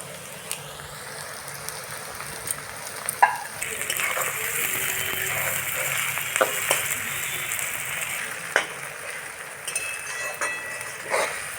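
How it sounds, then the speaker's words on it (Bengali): Chopped garlic and tomato hit a pan of browned onions for a country chicken chaap, giving a steady close sizzle with scattered clinks and scrapes throughout. "এখন রসুন কুচি এবং কেটে রাখা টমেটো দিয়ে দেওয়া হচ্ছে।"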